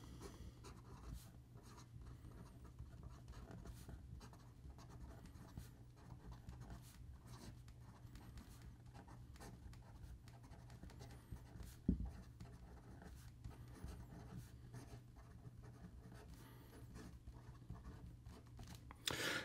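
A fountain pen with a stainless steel nib writing on paper, a faint soft scratching close by, continuous over a quiet background with a brief knock midway.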